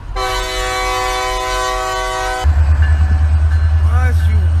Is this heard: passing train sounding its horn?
yes